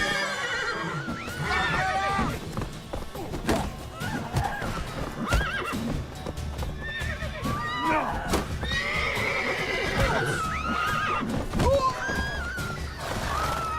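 A horse in The Witcher 3 neighs and whinnies repeatedly amid clip-clopping hooves, with thuds and a crash of combat mixed in, loud and close over busy game ambience.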